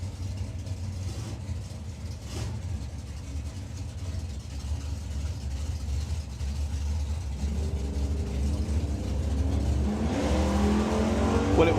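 A 1965 Ford Mustang and a 1963 Dodge sit in the lanes at a nostalgia drag race, with a low, rumbling engine drone that builds and revs harder toward the end, heard from a distance.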